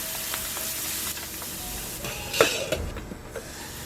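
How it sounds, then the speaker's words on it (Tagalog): Chicken liver and onions sizzle in a pan with a bright, hissing fry, briefly louder as the pan is stirred or covered, with no voices. "At isunod na rin natin ang atay, takpan, lutuin ng 3 minuto."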